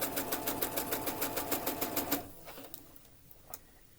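A sewing machine stitches slippery lining fabric in a quick, even run of rhythmic clicking whirs for about two seconds, then stops, leaving faint rustling and a single soft tap.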